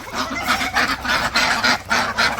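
Ducks calling nearby in a village, a run of loud, nasal honking quacks in quick irregular bursts, close and without talk.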